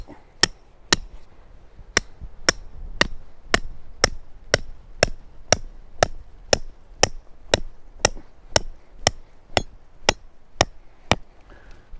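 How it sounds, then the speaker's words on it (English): Sharp metal-on-metal hammer blows driving a metal trap stake into the ground ring out in a steady rhythm, about two per second, more than twenty strikes in a row, close and loud with no talking. "Get your hammer and your stake, and you go one stake in an angle like this."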